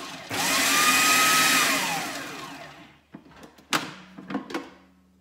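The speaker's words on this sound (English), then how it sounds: "the blade's in now, so we just put it on, give it a pulse" An electric food processor with its blade fitted pulses basil pesto ingredients in a kitchen, a loud whirring burst lasting about two seconds and winding down, followed by a few short clunks and knocks nearby.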